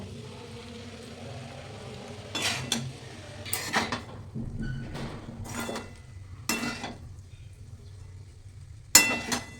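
Maggi noodles, pasta and egg being mixed in a pot, with scattered clinks and scrapes of a utensil against the metal pot over a low background hum and no talk.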